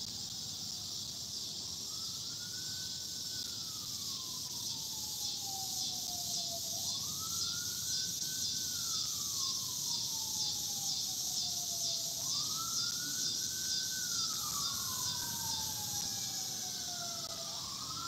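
A fire ambulance siren wails in long rising and falling sweeps near a St. Louis creek, heard at a moderate distance over steady outdoor background noise and repeating through the whole stretch with no talking.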